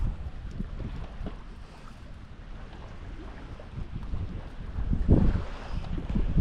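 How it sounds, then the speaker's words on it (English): Northerly wind rushing steadily past a small sailboat under sail, with water slapping and swishing against the hull, a continuous noisy blow that swells louder near the end. "The northerlies just kicked in a little bit, so I put the sail up."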